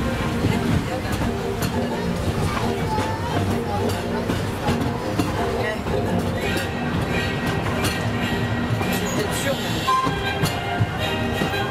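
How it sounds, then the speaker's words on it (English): The Disneyland Paris Railroad train rolls between Main Street USA and Frontierland stations with a continuous low rumble and clattering wheels, close and steady throughout, while voices talk over the ride. "Here on the Disneyland Railroad."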